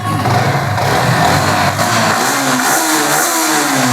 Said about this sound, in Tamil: இன்ஜின் பீட் சவுண்டு பாருங்கள்